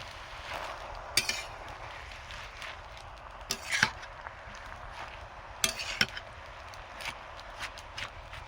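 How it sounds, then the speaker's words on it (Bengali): Chopped spinach stirred in a cooking pan for a winter Bengali prawn and spinach dish, with a utensil clacking against the pan in irregular taps over a steady sizzling hiss. "কেটে রাখা শাকগুলো দিয়ে দেব। এবারে নাড়িয়ে দেব।"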